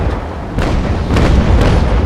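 Cannon broadside from a brig in the naval game Naval Action, a run of deep booming blasts, three or four heavy reports in close succession over a constant low rumble.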